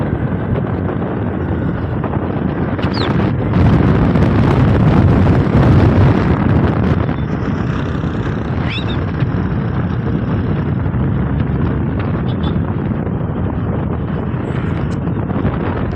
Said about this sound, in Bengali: কি জোরে হাওয়া চলতেছে